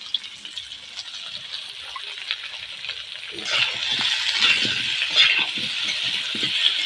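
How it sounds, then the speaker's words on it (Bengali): New potatoes frying gently in a pan with turmeric and salt for an egg curry, a steady close sizzle that grows louder and busier midway, with soft stirring clicks. "এটা আস্তে আস্তে ভাজবে।"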